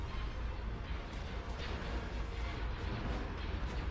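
Dense, continuous rumble of space-battle weapons fire and explosions as TIE bombers are shot down in Star Wars: Empire at War, a steady loud wash of booms and blasts with no clear gaps.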